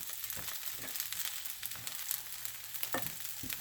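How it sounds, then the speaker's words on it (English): Brown rice sizzles steadily as it toasts in a pan, a dense close crackle with a few brief scraping stirs. "So I'm going to toast it for a few more minutes and then I'm going to add the stock."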